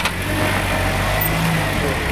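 A four-cylinder car engine revs up close by, a steady, loud mechanical drone with low rumble throughout, while people talk over it.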